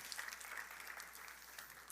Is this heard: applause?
yes